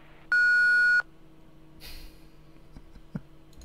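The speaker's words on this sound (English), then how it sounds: "Please leave your drink after the beep." A single clean answering-machine beep from the video game Thimbleweed Park, loud and lasting under a second, followed by quiet background with a faint rustle and a small click.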